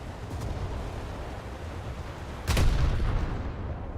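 Dropped explosives detonate in an IL-2-era air combat video game, a rumbling explosion swelling up midway under a steady roar of engine and battle noise.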